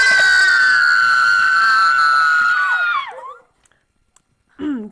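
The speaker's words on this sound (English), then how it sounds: "suddenly there was even louder of a shriek" A loud, sustained high-pitched shriek in a dramatized farmyard tale, held for about three seconds before sliding down and cutting off, followed by silence and a brief voice at the end.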